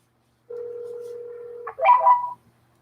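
Tones from a 3-line automatic phone dialer: a steady electronic dial tone holds for over a second, then a brief, warbling burst of higher dialing tones. Nothing else is heard, and no one speaks.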